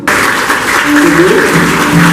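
An audience at a school anniversary celebration claps steadily throughout, dense applause with a musical tone or voices faintly underneath.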